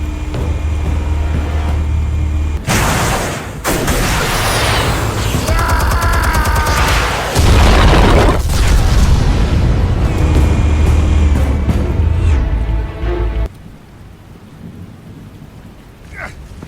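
Explosions in Batman: The Telltale Series on PS4, a long, loud sequence of booming blasts and rumbling debris with game score and effects, ending in a quieter tail.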